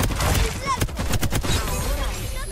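Machine gun fire in the battle video game Farlight 84, rapid bursts of shots with clustered cracks and sharp transients close up, layered over game effects.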